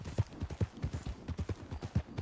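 Horse hooves clip-clop in the video game RedM, a close, steady train of soft thuds that repeats several times a second throughout.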